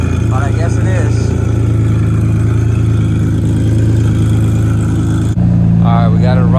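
Infiniti G37 engine running steadily at idle after a P1093 code repair, a close, loud, even drone with a brief dip near the end while a voice speaks over it.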